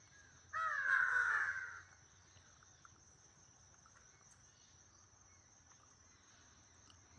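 A wild crow gives one loud, harsh caw lasting about a second, then falls silent, leaving faint insect chirring in a quiet outdoor setting.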